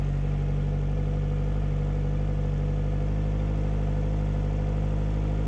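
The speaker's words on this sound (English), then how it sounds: "We'll start the engine and begin spraying the fogging oil into the air intake" A boat engine runs steadily while fogging oil is sprayed into its air intake, a loud, continuous low idling drone with a constant hum and no noticeable changes in speed.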